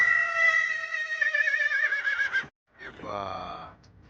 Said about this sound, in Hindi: एक ओरिजिनल घोड़े का जो साउंड होता है